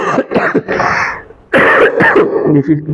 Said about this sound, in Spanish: cuando hablo mucho me da por toser